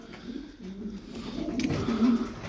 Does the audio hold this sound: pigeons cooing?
yes